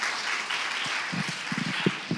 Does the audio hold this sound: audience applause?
yes